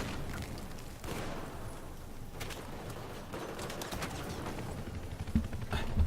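AK rifle fire in Battlefield 4, several bursts and single shots popping through a busy match with distant battle noise, loud crack near the end.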